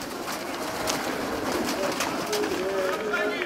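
Pigeons coo softly amid a muffled flutter of birds returning from a high flight at a fancy pigeon club event in Petra, Greece, while a voice talks nearby and faint outdoor noise fills the background.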